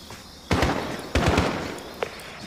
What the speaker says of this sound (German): Es sind Schüsse gefallen.